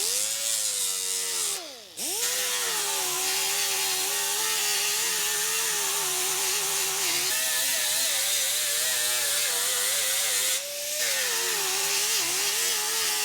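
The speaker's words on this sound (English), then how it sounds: "I'm using a 36 grit roll-lock disc on the angle grinder" Angle grinder fitted with a 36 grit roll-lock disc stripping paint from a car body panel, a loud steady whine held close that dips briefly twice as the disc is lifted off the metal.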